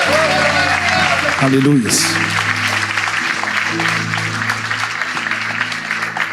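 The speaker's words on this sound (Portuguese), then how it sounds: "Você pode aplaudir o Senhor mais uma vez?" Church congregation applauding during a worship service, a steady crowd clapping that runs beneath a preacher's voice and sustained music throughout.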